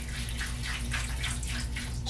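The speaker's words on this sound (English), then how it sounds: "we're going to put some chemistry in the tank before we put the lid back on" Fixer chemistry is poured into the tank of a roller-style film processor, making a steady, continuous liquid pour with bubbling splashes, heard up close with no talk.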